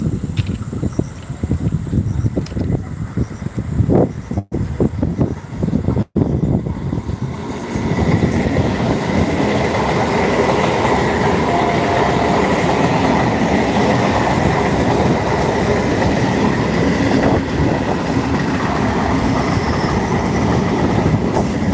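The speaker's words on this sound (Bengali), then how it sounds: "তোমাদের সামনে একদম ট্রেনটা চলে এসছে" A train passes close by, starting with rumbling and clatter and building into a loud, steady roar of wheels on rails that continues throughout, close and dominant, no talk.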